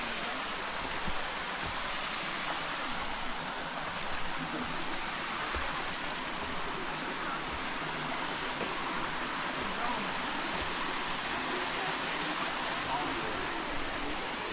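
A small waterfall on a forest trail in Pennsylvania gives a steady, broadband rush of falling water, close and constant from start to finish.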